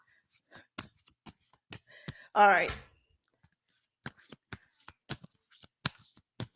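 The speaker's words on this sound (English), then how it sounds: "I'm going to keep shuffling" A deck of playing cards is riffled and shuffled in repeated sharp, crisp bursts, with one longer ruffling cascade midway, close and clear. A voice speaks briefly.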